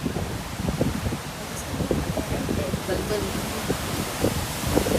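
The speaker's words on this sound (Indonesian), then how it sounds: "Anginnya hari ini lumayan kencang, tapi nggak sekencang kemarin." Strong wind gusts across a seaside spot at Casanemo in Sabang, a steady rushing roar buffeting the microphone throughout, with people talking over it.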